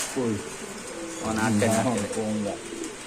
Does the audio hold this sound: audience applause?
no